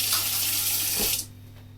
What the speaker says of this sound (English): Just rinse my hands.